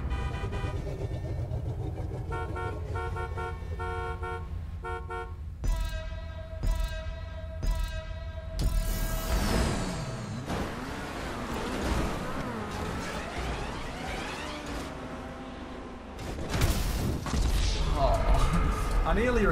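A car in the video game GTA Online, with engine roar, impacts and crash noises, a horn toot and chaotic race sounds, mixed under music and a voice.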